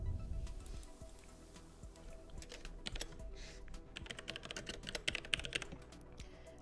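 Soft, quick computer keyboard keystrokes tap in an uneven stream while a map name is entered in flight-analysis software, close and fairly quiet with no voices.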